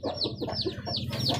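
Aseel hens and a rooster on a farm clucking and chattering close by, with repeated bright calls rising over a steady background of bird noise.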